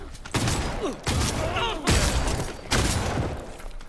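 Gunfire in the video game Red Fall comes in loud, dense bursts separated by short gaps, with sharp repeated shots and thumping impacts over game effects.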